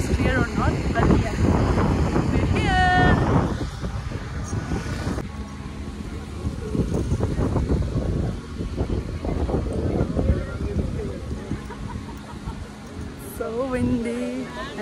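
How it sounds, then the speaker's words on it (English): Strong gusts buffet the microphone in heavy rumbling bursts while someone speaks intermittently over the roar, in the Cayman Islands. "I know it's very windy today"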